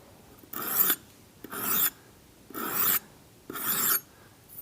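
A leather head knife drawn across a sharpening grit in four even strokes, each a close, bright rasping scrape separated by brief pauses, with no talk.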